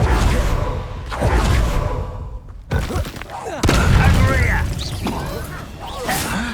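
Spell blasts go off in the video game Hogwarts Legacy: several sharp whooshing bursts and booms land in quick succession over a busy combat mix, with voices talking between them.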